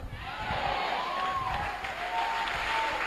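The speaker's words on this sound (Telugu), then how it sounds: "నువ్వు చప్పట్లు కొడుతుండగా" An audience claps during a church sermon in Vijayawada, a brief burst of scattered hand claps forming moderate applause over a murmuring hall, fairly distant and subdued.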